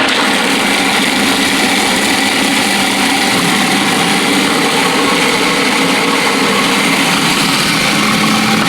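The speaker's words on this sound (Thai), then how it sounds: "เครื่องปั่น ครับ เครื่องทุนแรง" A blender whirs loudly and continuously at a high, steady pitch while blending chilies and garlic, running without pause throughout.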